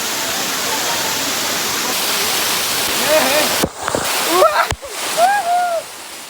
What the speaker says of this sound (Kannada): ಇಲ್ಲಿ ನೋಡ್ರಿ ಫಾಲ್ಸ್ ಯಾವ ಥರ ಅದ ಅಂದ್ರೆ